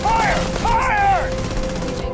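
Steady rapid gunfire in Starfield rattles beneath a voice shouting over the shooting, with the loud bursts continuing after the shouting stops.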